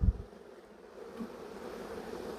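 Honey bees in an opened, queenless hive make a continuous close buzzing hum, steady and moderately loud, with a brief thump at the start.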